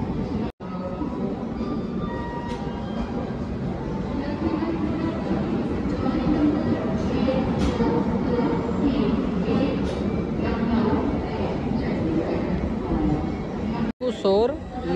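Lucknow Chandigarh Express train standing at Bareilly Junction station, with a steady, loud rumble of rail and station noise that holds throughout, plus brief clanks and voices in the background.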